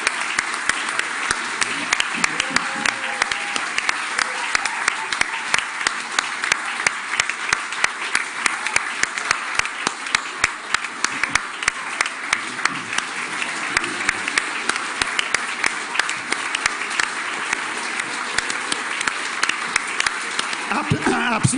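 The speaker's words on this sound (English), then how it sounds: "Big round of applause." A sustained round of audience applause at a staff awards ceremony, dense even clapping from a sizable crowd that holds steady throughout, with occasional speech underneath.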